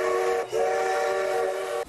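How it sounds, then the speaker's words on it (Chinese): Steam locomotive CK124 sounding its whistle on a run from Changhua station to Ershui ahead of a water-running marathon: a loud, steady whistle blast, a brief break, then a second long sustained blast. "比赛前由蒸汽火车 CK124引领专车旅客"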